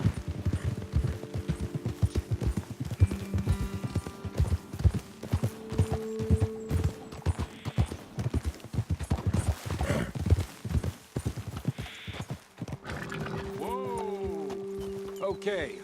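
Steady clip-clop of horse hooves on hard ground in Red Dead Redemption 2, with voices talking over the trotting and a horse whinnying near the end.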